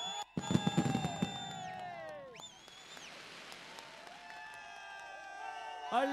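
Fireworks burst at a cricket tournament trophy unveiling in Chikkasandra: a sharp crackling volley of firecrackers up front, followed by rising whistles and lingering fizzing bursts over an outdoor crowd.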